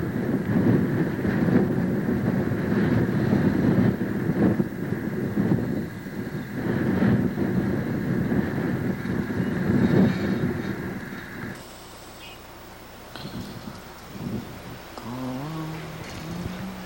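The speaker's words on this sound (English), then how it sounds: "You can tell the wind, how the wind's blowing there." Wind blows steadily outdoors in a yard with a swing and new pressure-treated lumber, a broad roaring rumble like gusts buffeting the microphone for most of the span, then dropping to a quieter, calmer stretch near the end.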